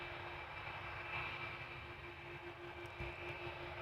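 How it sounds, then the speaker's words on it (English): A British Airways Airbus A320 jet bound for London Gatwick at Amsterdam Schiphol gives off a steady, distant engine drone with a faint whine, constant and fairly quiet throughout. "This is a British Airways A320 that is going to London Gatwick."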